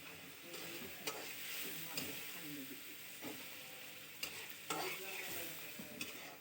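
A spoon stirs turmeric, ginger-garlic paste, chilli powder and green chillies frying in oil, with a steady sizzle and periodic scraping strokes against the pan.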